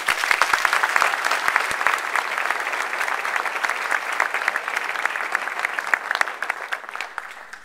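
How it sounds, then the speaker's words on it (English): Sustained audience applause for a group of Teacher of the Year finalists from Contra Costa County schools, a dense, steady wash of many hands clapping at even loudness from start to finish with no talk over it. "So again, a round of applause for these wonderful teachers."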